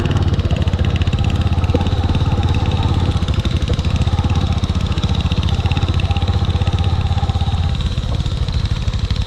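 A motorcycle engine idles close by, a loud, steady, even throb with no change in pace and no voices.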